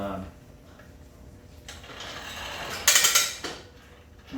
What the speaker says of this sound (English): okay, so it has a ratchet stop